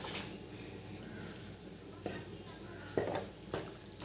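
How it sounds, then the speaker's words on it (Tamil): Intestine curry sautéed in a pan with a little turmeric, a low sizzle under soft scraping and a few sharp clinks of a spoon against the pan, fairly quiet. "நல்லா வதக்குங்க"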